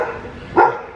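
A single short, close dog bark on a street rises briefly above quiet background hum.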